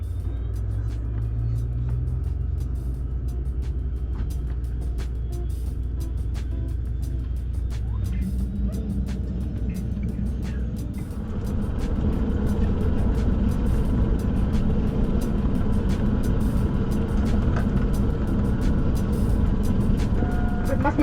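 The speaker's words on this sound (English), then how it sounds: "Soon the props began to turn" Propeller airliner engines start and build on the ramp, a deep low droning hum that grows louder and fuller partway through as the propellers spin up, heard from inside the cabin.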